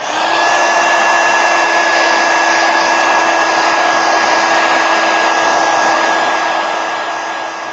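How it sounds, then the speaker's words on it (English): A heat gun runs steadily to dry wet paint on an abstract painting, a loud continuous whooshing blow with a fixed whine held throughout. "I'm going to hit it with a heat gun real quick because that is still wet right there."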